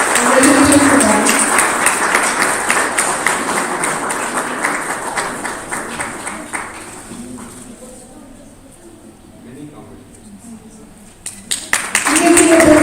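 An audience claps for rangoli competition winners at a Maharashtra Mandal Nairobi Azadi Ka Mahotsav celebration, with brisk, dense applause under a speaking voice. The clapping fades midway and swells again near the end.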